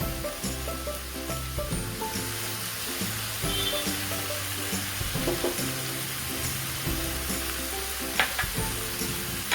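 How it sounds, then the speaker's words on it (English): Honey-glazed chicken sizzling on a greased grill: a continuous, close crackling sizzle with scattered pops throughout, and a low hum running beneath it. "You must be hearing the sizzling sound."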